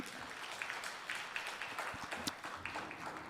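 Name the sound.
congregation applause in church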